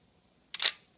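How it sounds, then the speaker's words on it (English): A Minolta X700 film camera fires its shutter once, a short crisp mechanical clack-whirr set against near silence, close and clear. "set this to 22, slide the bar down to lock it, and take a picture"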